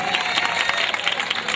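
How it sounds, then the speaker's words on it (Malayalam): An audience at a stage show claps loudly and densely, a close, continuous patter of many hands with a touch of crowd noise mixed in. "ഒന്ന് കൈയടിക്കും"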